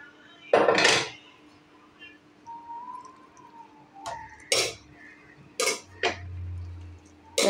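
A spoon stirs gravy into rice in a kadai pan, giving scattered metallic scrapes and clinks of utensil on metal, a few louder knocks among quieter scraping.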